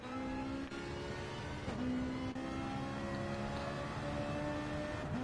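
Racing car engines in a DTM video game on the Grand Valley Highway 1 circuit, a Ferrari among the field, drone at steady high revs with faint shifting pitch, fairly quiet and continuous with no talk.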